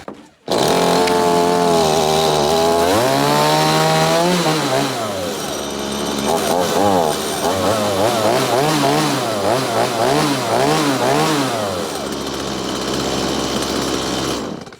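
A chainsaw engine sputters to life and runs loudly, its pitch rising and falling as the throttle is revved repeatedly.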